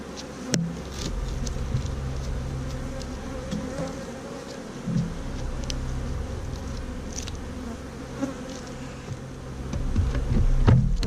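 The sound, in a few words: honey bees buzzing in a hive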